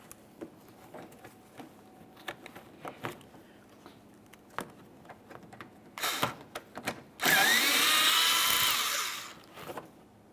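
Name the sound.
power tool removing the bumper mounting bolt with an 8mm socket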